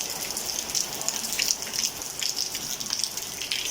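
Steady rain in Leyte, Philippines, falling on surfaces around a roofed waiting area, a dense continuous patter with light drop ticks throughout, no voices.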